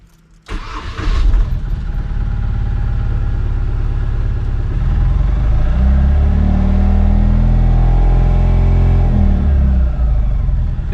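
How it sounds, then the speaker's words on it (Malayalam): A Mahindra Supro Mini truck engine cranks and catches, then settles into a loud, steady close-up idle with a slight rise and fall in revs over several seconds. No voices are heard. "ഓക്കെ, എഞ്ചിൻ സ്റ്റാർട്ട് ചെയ്യാൻ പോവുകയാണ്"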